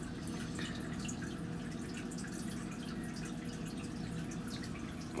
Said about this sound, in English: There goes the dripping.